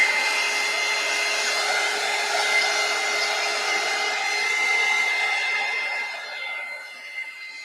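A hair dryer blows steadily over freshly painted gouache, a loud, even whirring hum held close for several seconds before easing slightly as it moves away.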